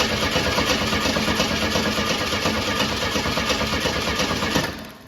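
An AMC Eagle engine cranks and runs with its fuel pump working, a loud, dense, steady mechanical churn close by that cuts off abruptly near the end.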